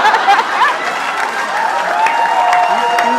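Audience clapping at a stand-up comedy show in Mumbai, a steady, dense patter of many hands filling the room for about three seconds, with faint chuckles and crowd murmur mixed in.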